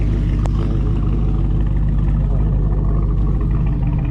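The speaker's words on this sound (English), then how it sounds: "This truck sounds cool." Deep continuous rumble of a truck engine idling nearby, loud and even in level with a heavy low-frequency drone and a brief faint click early on.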